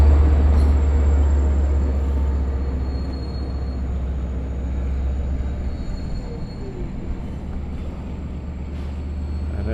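Long Island Rail Road Cannonball train 2798 rolls past at Westhampton, a loud, steady rumble of wheels and cars with a faint high squeal riding on top, sustained throughout.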